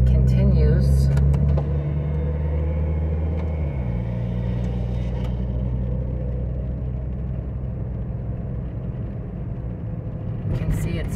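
A car rolling slowly through a mobile home park, a steady low engine rumble with road noise under a person's narration, running at an even level from start to end.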